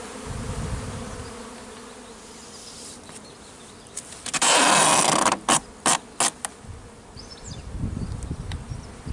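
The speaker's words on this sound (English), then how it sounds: "these bees will eventually work their way into the two adjacent hives." Honey bees buzz around beehives during queen replacement, a dense, close, continuous drone that swells, with a loud burst and several sharp knocks or thumps midway before the humming settles again.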